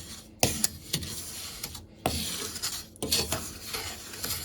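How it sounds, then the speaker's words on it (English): A spoon stirring a condensed milk mixture in a bowl, with a few sharp scraping knocks and clinks against the sides amid softer swishing, close and fairly quiet. "I'm going to give that a mix together"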